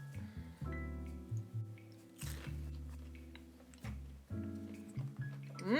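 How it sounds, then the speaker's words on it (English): Someone bites into and chews a McDonald's spicy chicken nugget, with close, soft crunching and mastication sounds running under steady background music. "So Let's try a nugget."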